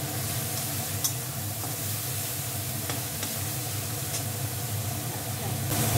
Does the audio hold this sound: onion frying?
yes